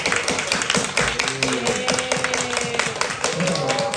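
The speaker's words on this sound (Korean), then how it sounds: "환영하는 마음으로 박수 한번 칠까요?" A crowd at a church chapel service claps in welcome, dense rapid applause from many hands filling the room steadily throughout, with faint voices mixed underneath.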